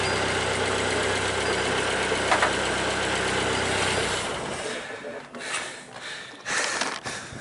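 A sailboat's inboard engine idles with a steady, close throbbing drone at anchor, then cuts off partway through, leaving quieter water and deck noises with a few bumps.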